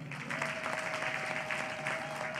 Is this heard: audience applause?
yes